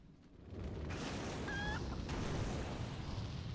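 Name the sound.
chicken clucking in the video game World of Warcraft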